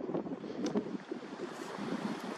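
Gusty wind on a creek greenway trail buffets the microphone in low, uneven rumbles, with a faint rushing hiss underneath and no voices.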